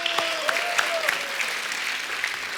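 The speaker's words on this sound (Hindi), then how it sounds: "उनके लिए जोरदार तालियां एक बार।" A crowd applauds steadily and loudly throughout at a Bollywood show, a dense wash of many hands clapping at once.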